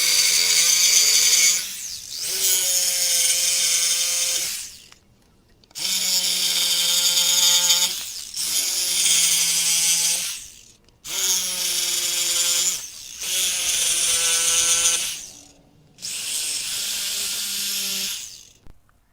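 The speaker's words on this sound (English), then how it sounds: "so I'm going to use a jigsaw" A jigsaw cuts through a wooden stair stringer in six loud, close bursts of buzzing, rasping sawing, each lasting a couple of seconds and separated by brief pauses, with no talk.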